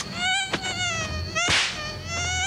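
A mosquito's high, wavering whine drones steadily through a French TV insecticide advert, loud and close, briefly interrupted by a couple of sharp swats or thuds.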